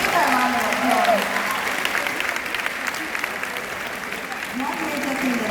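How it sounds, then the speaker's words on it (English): An audience at a business finance talk applauds in a sustained, even wash of clapping from many hands, with a voice speaking over it near the start and end. "Let's give that a round of applause"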